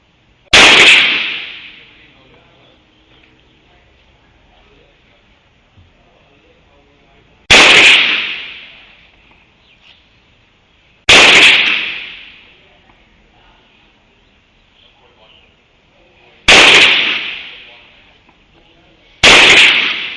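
Handgun shots at a TRC-system shooting practice range, five loud, sharp single reports spaced several seconds apart, each followed by a long echoing decay outdoors, with no talking between them.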